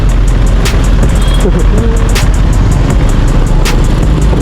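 Dense road traffic around a Honda Wave motorbike on a congested Metro Manila road near Trinoma toward Munoz: a loud, constant rumble of engines and wind with scattered brief higher sounds throughout.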